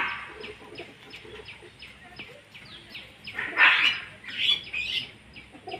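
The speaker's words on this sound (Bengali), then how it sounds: "ছটফট করছে পায়রা একদম" Pigeons flap and struggle as they are handled at a sale, with brisk wing bursts and scuffling midway among repeated sharp chirping bird calls nearby.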